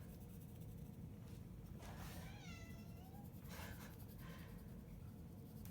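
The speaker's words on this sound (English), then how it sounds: "I know, Kitty, you want some loves" A house cat meows softly a few times against a steady background hiss in a quiet room where someone is drawing, faint and close, with no talking.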